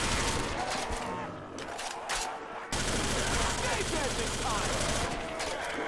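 MP5 submachine gun fire in Call of Duty: World at War, with rapid bursts of automatic shots and booming game effects layered over a dense, loud battle mix, with a sharp cut partway through.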